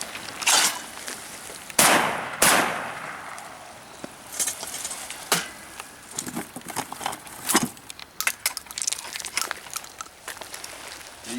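A Baikal 12 gauge over/under shotgun firing full-power 3-inch magnum shells outdoors, with a few sharp loud blasts spaced seconds apart and quieter clatter between them.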